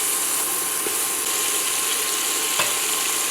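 Onions sauté with spices in a pan, giving a steady, close, bright sizzle with a few faint clicks of stirring and no voices.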